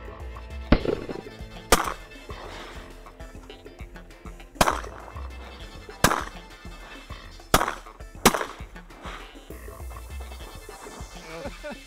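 Sharp shotgun blasts out duck hunting, several loud reports spaced irregularly over about ten seconds, each a sudden crack with a brief decay, over low background rumble.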